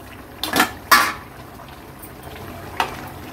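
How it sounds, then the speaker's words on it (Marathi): Metal lid clattering off a pot of cooking peas and potato curry in a home kitchen, two close clanks in quick succession, then a lighter clink a moment later. "आपण झाकण काढून घेऊया भाजीवरचं"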